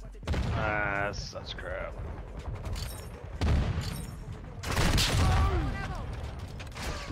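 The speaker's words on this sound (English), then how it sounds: "That dude is using that marksman rifle." Marksman rifle shots in a video game, a few sharp reports and mechanical clanks mixed with game sounds while someone talks over them.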